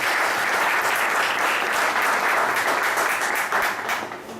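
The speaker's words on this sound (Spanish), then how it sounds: "Un aplauso para él." Church congregation applauding a young pastor, a dense, steady wash of clapping from many hands that holds strong throughout and tapers slightly at the end.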